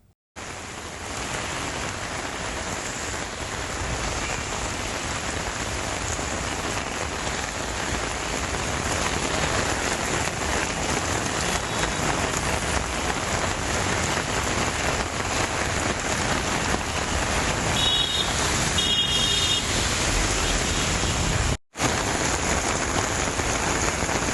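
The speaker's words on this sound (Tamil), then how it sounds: "கடலூர் மற்றும் சுற்றுவட்டார பகுதிகளில் 1 மணி நேரத்திற்கு மேலாக கனமழை பெய்து வருகிறது" Heavy rain pours down in Cuddalore, a dense, continuous roar of drops striking surfaces that holds steady for the whole stretch.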